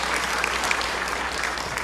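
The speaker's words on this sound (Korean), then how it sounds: "박수 한번 해주시죠" A church congregation claps after a pastor's words, a short burst of steady, moderately quiet applause filling the room without any voices on top.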